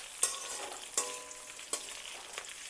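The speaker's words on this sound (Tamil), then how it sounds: "ஸ்டார் அனீஸ், அப்போ கிராம்பு, இது எல்லாம் மசாலா நல்லா இப்படி தான் ஃப்ரை பண்ணும்போது" Whole spices, star anise and cloves, fry quietly in a pan with a soft sizzle, broken by three or four crisp scrapes of a stirring spoon, and no talking.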